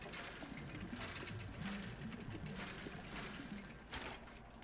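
Dredging in the fishing video game Dredge gives a continuous close mechanical whirring and ratcheting, like a winch or gears turning, steady throughout with a brief brighter clank near the end and no talk.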